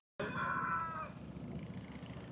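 A rooster crows once at dawn on the Mekong River near Can Tho, Vietnam, a long strained call that fades into steady outdoor background noise.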